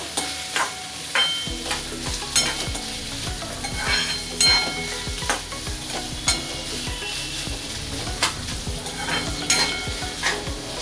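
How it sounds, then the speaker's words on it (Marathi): Ginger and garlic sautéed in hot oil with steady sizzling and repeated stirring scrapes of a spoon in the pan, close and fairly loud, no talking. "आपल्याला जरा सर्व व्यवस्थित तेलामध्ये परतून घ्यायचं आहे"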